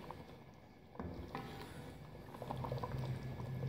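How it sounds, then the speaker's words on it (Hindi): A pot of fish head shorba (soup curry) simmers on the stove with quiet, continuous bubbling that grows fuller and louder toward the end, alone without talk. "देखिए हमारा शोरबा 20 मिनट से पक रहा है, तरी आ गई है और इसको 10 मिनट और पकाएंगे।"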